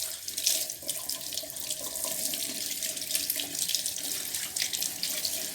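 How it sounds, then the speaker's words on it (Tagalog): Spring onions being washed under a running kitchen tap, a steady close hiss of flowing water with splashing against the vegetables, continuous and unbroken. "Hugasan natin siyang maigi hanggang sa mawala yung putik."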